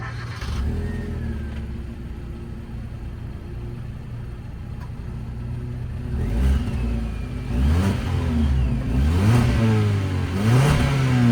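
A car engine idles steadily, then revs up several times with rising and falling pitch, growing louder toward the end.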